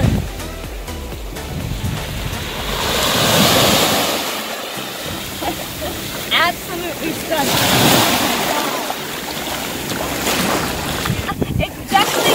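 Ocean surf washing ashore at Seven Mile Beach in the Cayman Islands, a steady broad wash with swelling peaks and gusts of wind noise on the microphone, and brief voices passing in and out.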